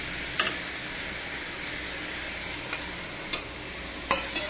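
Hilsa fish heavy with roe goes into a simmering curry, giving a soft, steady bubbling hiss with a few light clinks of pan or utensil.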